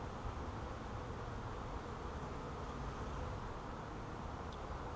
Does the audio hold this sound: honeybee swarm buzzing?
yes